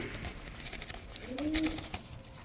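A black male Dauka pigeon gives a soft, low coo near the middle, faint and close, over quiet background rustling.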